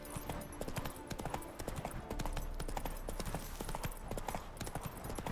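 Hooves of a horse clip-clop in rapid rhythmic beats as it gallops in the video game Witcher 3, a close, continuous run of hoof strikes lasting the whole stretch, with faint talk in the background.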